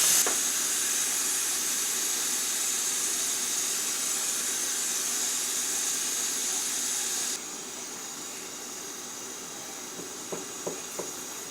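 Steam hissing from a pressure cooker on quick release while cooking corned beef and cabbage: a loud, steady, broad hiss that drops suddenly to a quieter level partway through, followed by a few faint clicks near the end.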